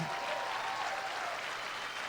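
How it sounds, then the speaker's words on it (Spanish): Steady applause from a church congregation, a dense even patter of clapping that holds at moderate level for about two seconds without a break. "Dale un aplauso al Señor."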